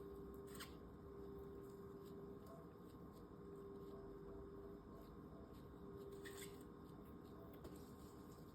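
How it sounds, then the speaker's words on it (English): Faint snipping and scraping of scissors cutting muscle from a cow eyeball during dissection, a few soft crisp cuts over a steady low background hum, close by and quiet. "we're going to cut off all of the muscle"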